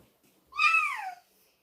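A single drawn-out meow made by a human voice imitating a cat, rising then sliding downward, clear and close against silence.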